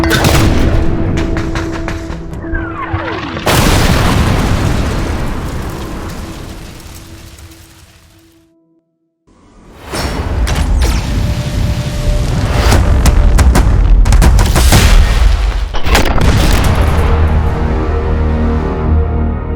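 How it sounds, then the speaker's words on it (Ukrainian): A loud grenade explosion bursts out mid-clip during combat near Avdiivka, followed by a rumbling roar and scattered cracks of gunfire before the noise slowly fades. "Граната!"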